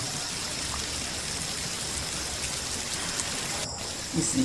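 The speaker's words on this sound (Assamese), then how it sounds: "বাহিৰত ইমান ডাঙৰ বতাহ বৰষুণ" Heavy rain pours steadily outdoors in a dense, continuous hiss with the wind, loud and unbroken, with no voices over it.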